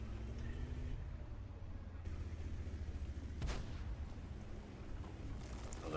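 Tank cannon fire in the World of Tanks game: a single sharp blast near the middle over a low rumbling battle bed, moderately distant.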